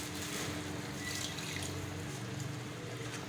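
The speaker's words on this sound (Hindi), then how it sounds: "थोड़ा सा पानी डालेंगे।" Water runs steadily into a pan of beef liver (kaleji) cooking with ground chilli, ginger and coriander, a continuous close splashing trickle with no voices.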